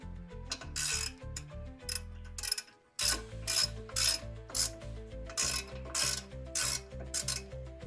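Ratchet torque wrench clicking rapidly in bursts, pausing briefly, then resuming, while tightening the rear brake caliper bolts on a 2005-2014 Ford Mustang; close and crisp, with no voices.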